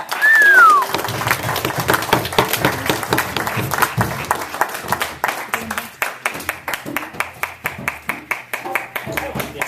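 An audience at a poetry reading venue claps and cheers for a poet. A dense patter of applause carries on throughout, with a whoop near the start and voices talking over it.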